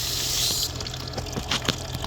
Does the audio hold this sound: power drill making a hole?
no